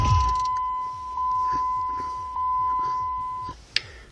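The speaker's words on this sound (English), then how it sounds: "Wait for all the beeping to stop." A steady electronic tone from a Silca SBB key programming console holds for several seconds with brief beeps interrupting it, then stops, followed by a short click against faint background noise.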